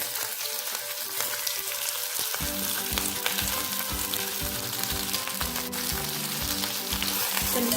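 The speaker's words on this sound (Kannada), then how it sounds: "ಎಣ್ಣೆ ಬಿಸಿ ಆಗ್ತಾ ಇದ್ದಾಗೆ ಒಂದು ಈರುಳ್ಳಿ, 2 ದೊಣ್ಣೆ ಮೆಣಸಿನಕಾಯಿನ ಹಾಕ್ಕೊಳ್ತಾ ಇದ್ದೀನಿ" Onion and capsicum sizzle and crackle steadily in hot oil in a pan, a continuous close frying hiss with occasional stirring scrapes, no voices.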